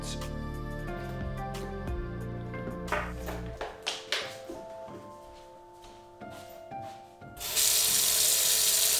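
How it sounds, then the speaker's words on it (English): A bathroom sink fills from the tap, water running with clinks and knocks of handling before the tap opens fully into a loud, steady rush at the end. "Now I fill up the sink with water with approximately 37 to 40 degrees."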